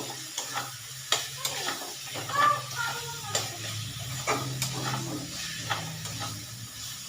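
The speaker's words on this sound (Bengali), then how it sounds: "জাস্ট অল্প করে একটু জল দিয়ে দিলাম এখন করে মশলাটাকে কষিয়ে নেব" Masala spice paste loosened with a splash of water and stir-fried in a pan for a jackfruit and prawn curry, soft sizzling under repeated close scrapes and clacks of a spatula.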